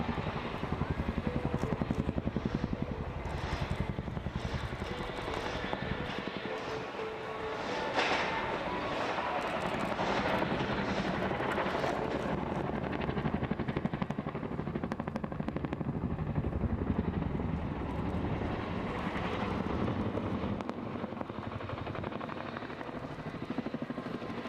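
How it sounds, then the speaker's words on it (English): A Chinook twin-rotor helicopter climbs and twists during an air show display at Dunsfold Wings & Wheels 2014, its heavy rotor thudding and engine roar loud and sustained, swelling and fading as it manoeuvres. "the Chinook used to demonstrate its excess of power compared to other helicopters by climbing directly and twisting in the climb"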